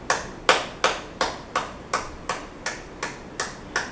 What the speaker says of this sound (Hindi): सबसे पहले करेंगे हम ताली बजाएंगे।